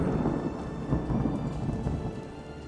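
Deep rolling thunder rumbles continuously through steady rain in the naval battle video game Waves of Steel, a low, heavy roar that swells and fades without any voices.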